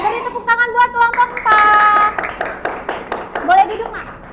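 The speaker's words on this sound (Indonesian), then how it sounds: "Beri tepuk tangan buat kelompok" Second-grade children in an Indonesian classroom clap together for a group, a burst of close, uneven claps mixed with excited young voices and a teacher talking.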